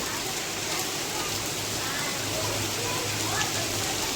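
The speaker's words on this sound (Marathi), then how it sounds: "पाऊस चालू झालेला आहे" Steady rain falls with a dense, even hiss on surfaces, close and continuous, with a faint low hum underneath. Rain with lightning in Ardhapur, Nanded, Maharashtra.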